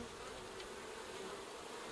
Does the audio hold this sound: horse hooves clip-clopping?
no